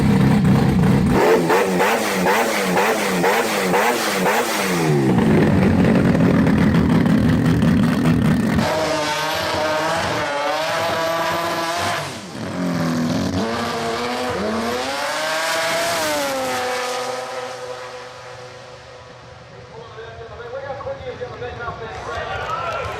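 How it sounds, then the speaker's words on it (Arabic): A rotary-engine dragster with four turbos revs hard, giving a loud, buzzing engine note that rises and falls in repeated sweeps, close by, with a voice talking over it. "شيكولي على هذه الدراجستر اللي عليها ماكينة روتري واللي عندها 4 تربوات أيضا"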